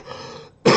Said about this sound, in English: This cough just won't go away.